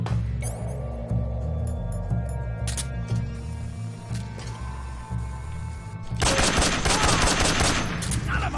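Gunfire in Metal Gear Solid 3: Snake Eater: scattered mechanical clicks and shots over a humming game score, then a loud sustained burst of automatic fire toward the end.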